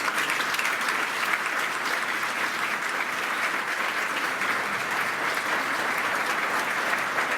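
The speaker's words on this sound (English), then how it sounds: "So I'd like to ask the audience to express our great appreciation for the Deputy Secretary with a big round of applause." Audience applause at a formal members' meeting honouring a visiting US Deputy Secretary of State, a steady dense round of clapping from a large crowd, sustained and even without a break.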